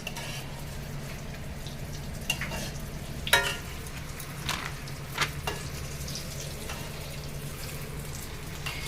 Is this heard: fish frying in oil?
yes